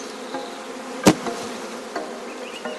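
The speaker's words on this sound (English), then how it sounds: "There are the bees again, and I drop them onto this sloping surface, and they'll all start to walk uphill." Honeybees in a Victorian farm hive setting, crawling on a sloping surface with a steady close buzzing hum and one sharp knock partway through.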